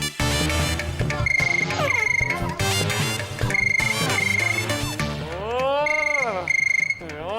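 A telephone rings insistently in a Kannada TV serial, an electronic ringtone repeating in regular bursts over loud background music.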